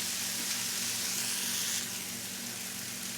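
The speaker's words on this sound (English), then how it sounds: "our vegetables are continuing to saute here" Mixed vegetables sauteing in a pan give a steady, close sizzle and hiss that holds level throughout, with no talking.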